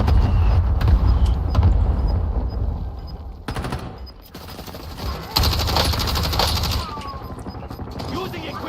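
Gunfire rattles through a Call of Duty: Warzone Resurgence match, with several bursts of shots over dense game ambience and announcer lines. The firing is loud and sustained, eases briefly in the middle, then picks up again.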